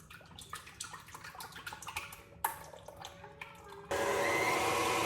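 A stand mixer starts up on heavy whipping cream, a sudden loud steady whir after some clinks and handling of kitchen items, continuing to the end.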